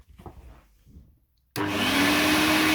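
Electrolux Twin Turbo 2 Super Z1070A bagged upright vacuum cleaner switching on after faint handling noises, then roaring loudly and steadily with a rising motor whine as it spins up.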